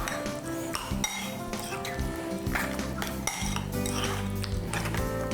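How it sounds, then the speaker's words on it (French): Utensil stirring and scraping in a bowl while a cucumber salad dressing is mixed, a continuous clinking and swishing with louder knocks, close and steady with no talk. "je vais juste continuer à mélanger ça"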